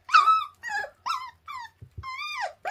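A 24-day-old puppy tearing at raw meat makes a close run of high whiny growls and yelps in short bursts with brief gaps, without any human voice.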